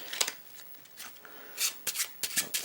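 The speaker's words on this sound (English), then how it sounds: "we can give these cards" Playing cards given a quick shuffle during a six-card magic trick, a series of short papery riffling bursts, brisk and close, with no talking.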